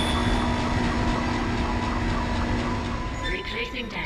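A tram from the video game Dead Space rumbles steadily along the rails with a constant low hum and rattling, then shifts and fades near the end as a voice begins speaking.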